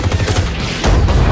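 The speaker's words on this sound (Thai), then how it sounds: "เสียงปืนนี้ต้องชมอีกอย่าง" Gunfire in the video game Call of Duty: Modern Warfare, loud and close, with a rapid run of shots followed by a heavier booming burst, no voices over it.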